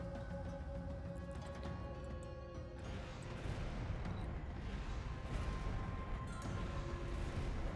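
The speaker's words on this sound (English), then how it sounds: "I just built a lot of rocket cannons" A dense, continuous barrage of booming blasts and crackling explosions from many rocket cannons in a video game rumbles on, loud and unbroken, like heavy weapons firing repeatedly.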